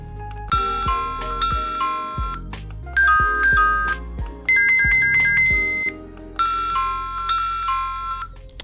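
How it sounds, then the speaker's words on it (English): A Uniview ED-525B-WB doorbell plays a series of melodic electronic chime tunes, each a short bright ringing phrase, one after another, clear and close with no talking. "So it's gonna be different chimes we can choose from."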